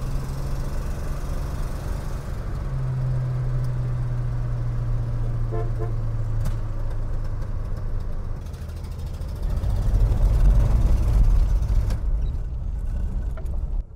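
A 1970 Dodge Dart runs and drives with a steady close engine drone, engine pitch rising slightly as it moves, a brief rattle partway through, then a low rumble as it pulls up.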